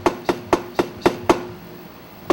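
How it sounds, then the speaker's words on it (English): Seven sharp hammer blows on a VW Thing Type 181 front seat frame during reupholstering, six in quick steady succession then a pause before a final strike, close and crisp with no talking. "We're going to hammer it over and we're going to wire it on."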